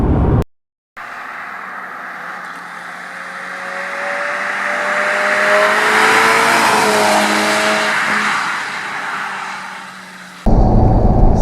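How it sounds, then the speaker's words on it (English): A 2016 Audi TT TFSI Roadster with a turbocharged engine and six-speed manual gearbox accelerating, the engine note rising and swelling steadily and loudly for several seconds before easing off, with no talk. "Obviously, it is a turbo, so there will be a hint of turbo lag."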